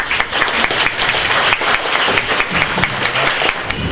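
An audience at a children's hackathon show-and-tell applauds a team, a dense, loud, continuous clapping with no gaps.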